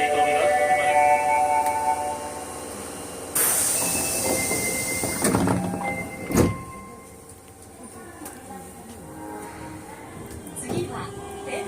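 An Osaka Metro Tanimachi Line 22 series train with GTO motor control running between stations, with a steady rumble of wheels and motor tones heard from inside the car, a brief loud clunk partway through, and onboard announcements audible in the background.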